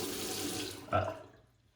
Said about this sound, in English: just sprinkle a bit of water